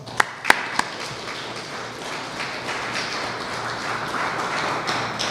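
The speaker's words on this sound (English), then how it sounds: "I think that they deserve a round of applause." A round of applause at a Caribbean Agricultural Research and Development Institute anniversary event, opening with a few sharp claps before settling into a steady, moderate wash of clapping from the audience.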